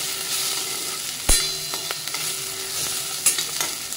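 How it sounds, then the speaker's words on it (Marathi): Okra and tomato fry in a pan while being stirred, with a steady close sizzle broken by a few sharp scrapes and knocks of the spoon. No voices. "मस्त भेंडी फ्राय झालेली आहे"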